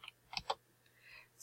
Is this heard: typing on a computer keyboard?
yes